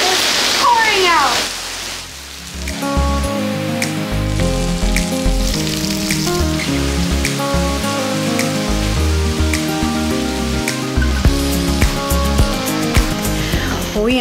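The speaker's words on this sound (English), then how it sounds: "It's pouring out." Heavy rain pours down steadily in a Singapore park, a dense, constant hiss of water on surfaces lasting throughout, with music or tonal sounds and a voice on top.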